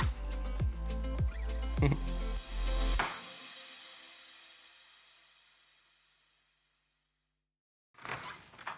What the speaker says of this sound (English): Should I walk out the door?